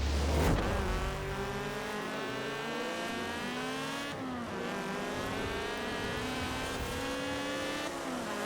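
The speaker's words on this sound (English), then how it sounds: "Revving this almost 9k. Look at it go." A car engine revs hard toward almost 9000 rpm, a loud, sustained high-pitched wail with rising and falling pitch sweeps, heard close with no talking, from a car built for drag strip racing.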